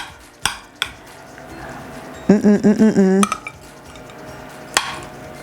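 Chicken and stuffing casserole is served onto a plate with a few sharp, close utensil clinks against dishware, separated by quiet gaps, plus a brief tonal squeak or scrape in the middle.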